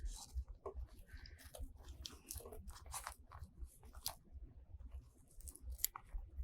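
Scissors rough-cut embroidery stabilizer around a terry towel, a quiet run of irregular crunchy snips and paper-like crinkles up close, with no talk.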